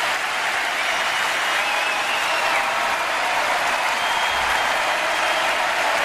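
A concert audience at a show applauds in a dense, steady roar of clapping that stays loud and even throughout, with no pause.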